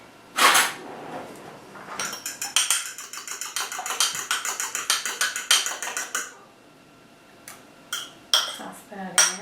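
Fork beating milk, egg and salmon patty ingredients in a bowl, a fast run of rhythmic metallic clinks and scrapes after an opening clatter, ending in a few scattered taps.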